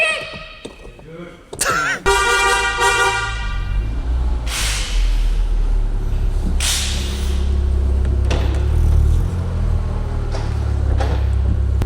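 A Peugeot 406 inches forward inside a garage, its engine giving a steady low rumble that settles in after a brief clatter, with people talking close by.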